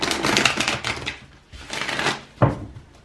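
Tarot cards riffle and shuffle close up in two quick bursts, followed by a sharp tap as the deck is squared.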